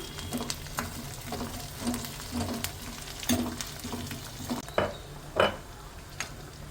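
Garlic, green chillies and curry leaves sauté in a pan with a steady low sizzle, broken by the occasional tap of a utensil stirring against the metal.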